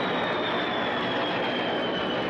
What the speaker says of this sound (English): There's a jet and fly over top of us here.